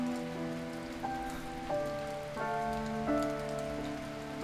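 Steady rain falling and pattering on surfaces, heard close and continuous without pause, with a layer of sustained tonal music running underneath and no voices present.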